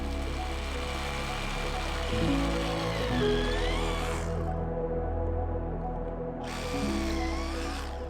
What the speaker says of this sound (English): drill a few more holes and slam in some rebar